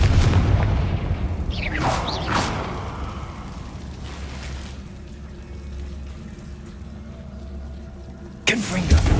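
A Confringo fire spell in Hogwarts Legacy bursts with a loud whooshing boom, followed by a low rumbling tail that fades, then another sharp blast near the end.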